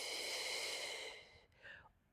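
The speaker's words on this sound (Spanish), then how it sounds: "Una respiración completa bajando." A full, slow exhale during a pelvic recovery breathing exercise, a long airy breath that fades out, followed by a softer trailing breath, faint and close with no talk over it.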